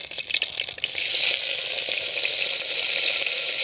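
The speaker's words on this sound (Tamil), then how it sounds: "இப்போது நம்ம இலையை நல்லா வதக்கிக்கலாங்க." A handful of balloon vine leaves sizzle in sesame oil in a pan, a steady close frying hiss with faint stirring clicks and no talk.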